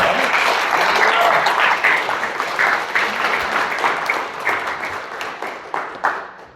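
A church congregation gives warm applause to welcome a pastor to the pulpit, a dense, sustained wash of many hands clapping that slowly thins and fades toward the end.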